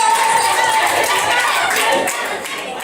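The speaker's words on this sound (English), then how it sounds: "Give it a round of applause." A crowd at an alumni meet applauds loudly and steadily, with a dense patter of clapping that tapers off slightly toward the end.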